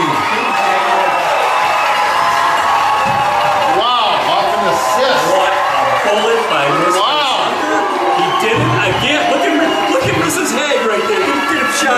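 A crowd roars and cheers at a high school sectional championship football game between WLA and St Lawrence, loud, sustained shouting and whooping with excited voices calling out across it.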